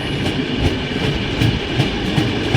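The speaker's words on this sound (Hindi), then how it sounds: "train new Jalpaiguri railway station पहुंचने वाली है" A passenger train rumbles steadily as it nears New Jalpaiguri railway station through the yard, with continuous loud wheel and carriage noise and faint rhythmic clicks over the rails.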